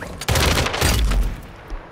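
Loud video game gunfire, a dense fusillade of rapid overlapping shots with heavy booming impacts, close and continuous for nearly two seconds.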